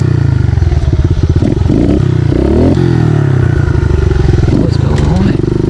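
Kawasaki KLX 110 big bore dirt bike engine sputters and chugs loudly up close, its uneven revving broken by clattering, with a rider talking excitedly over it.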